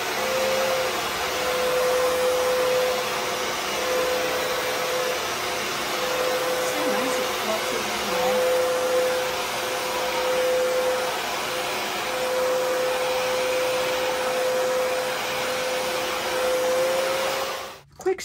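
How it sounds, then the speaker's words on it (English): An all-in-one multi-surface floor cleaner runs loud and steady with a constant motor whine, droning without pause until it cuts off abruptly at the end. "Plug it in and we'll just run the vacuum real fast"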